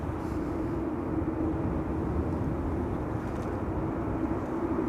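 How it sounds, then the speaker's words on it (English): A Royal Jordanian airliner approaches the airport, a steady, distant broadband jet roar that holds an even level throughout, with no voices. "Royal Jordanian is also approaching, slowly but surely getting over here."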